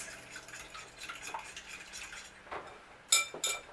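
Batter for croissant French toast is mixed in a bowl, a continuous soft scraping and whisking with a few sharper utensil clinks near the end.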